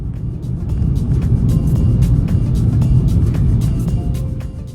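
A high-mileage BMW 320d cruises along a road trip route, heard from inside as a steady, loud low rumble of engine and tyre noise with faint intermittent ticks.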